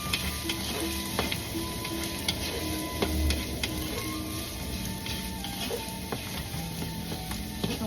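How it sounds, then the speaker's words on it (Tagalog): Garlic, onion and ginger sautéing in a pan, a constant close sizzle with scattered clicks and scrapes of stirring, no talk. "Continue po natin gisahin ang ating sibuyas, bawang, tsaka luya."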